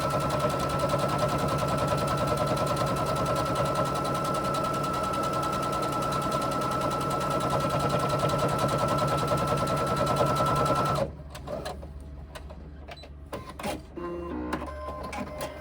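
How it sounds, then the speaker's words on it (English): Sewing machine running steadily while top stitching down the sides of tote bag handles, a continuous close mechanical whir for about eleven seconds that then stops, leaving quieter handling noises. "just run your top stitching down each side of your handles"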